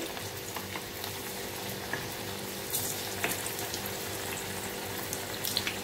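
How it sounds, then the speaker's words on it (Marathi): Sweet dumplings fry in oil in a pan on medium heat after being flipped, giving a continuous close bubbling sizzle with a few faint clicks and shifts, and no voices. "तर दुसऱ्या साइडने सुद्धा थोडेसे असे फ्राय करून घ्यायचे आहेत"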